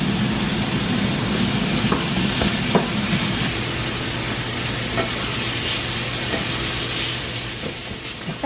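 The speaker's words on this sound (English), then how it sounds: "So I first start off by putting some peppers and onions in a pan, and I get those sauteing" Peppers, onions and sausage sauté in a pan with a loud, continuous sizzle and hiss, occasional stirring clicks and scrapes breaking through the steady frying noise.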